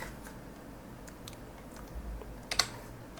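Light, sparse keystrokes on a computer keyboard, with a couple of sharper clicks near the end, faint and close over quiet room hiss with no talking.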